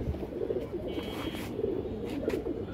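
A senior racing pigeon coos softly and steadily at close range, a low repeated throaty murmur with no voices.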